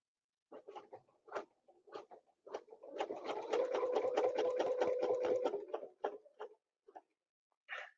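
A sewing machine stitching a quilt along a ruler template: a few short stitch bursts, then a steady rapid run of needle strokes lasting about three seconds, then more brief stitches, quiet and close.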